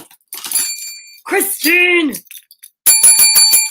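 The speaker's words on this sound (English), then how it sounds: "Where's my bell? I need my bell." A bicycle-style hand bell rings in bright, repeated strikes toward the end, following bursts of excited speech and a raised voice calling out; the ringing is close and loud.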